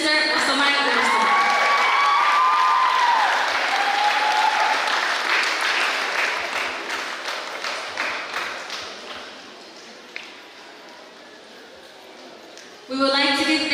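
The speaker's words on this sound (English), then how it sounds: "Let us give a round of applause to Spencer Osamaya Wilson." Audience applause fills a high school graduation ceremony in Pohnpei, loud and sustained at first, then thinning and fading to scattered claps before a fresh burst at the end; a voice is faintly audible beneath it.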